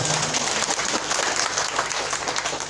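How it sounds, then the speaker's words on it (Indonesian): A short burst of clapping from a group, brisk and fairly even, heard alone without voices. "Tepuk tangan."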